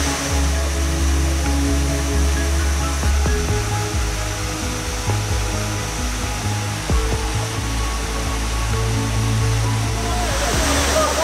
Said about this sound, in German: dann siehst du hier den Hauptwasserfall. Und hier fällt das Wasser 60 Meter in die Tiefe.